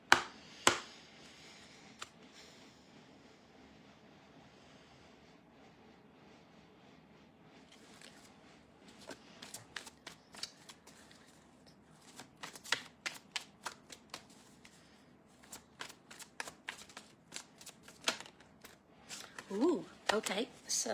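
A deck of cards is shuffled at close range in a quiet room, with soft riffling at first, then a run of sharp, rapid card snaps and flicks growing busier toward the end. A voice speaks faintly at times.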